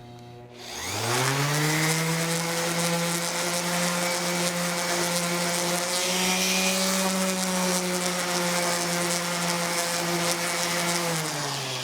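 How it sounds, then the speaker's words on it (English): A power sander whirs up to speed and runs steadily with a buzzing mechanical hum, loud and close, sanding wood, without talk. "we're going to do a little bit of sanding here"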